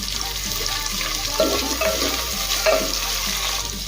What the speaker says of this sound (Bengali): এখন কিছুক্ষণ সময় নিয়ে পেঁয়াজটা হালকা করে ভেজে নেব, আর মাঝে দেবো ফ্রেশ কারি পাতা।